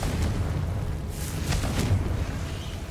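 A Confringo fireball spell bursts in Hogwarts Legacy: low, muffled booms and crackling impacts thud repeatedly over a steady rumbling bed, fairly close.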